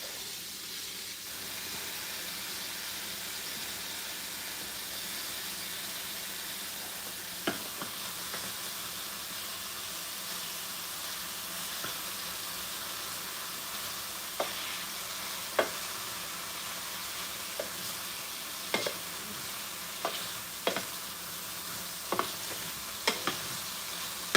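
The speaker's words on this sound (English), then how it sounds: "then I'll add in the peppers and half of the garlic" Shrimp, bell peppers and garlic frying in a hot pan, a steady soft sizzle and hiss running throughout with occasional sharp clicks and pops from stirring utensils, no talking.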